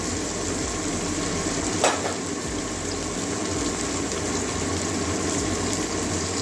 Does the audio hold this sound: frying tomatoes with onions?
yes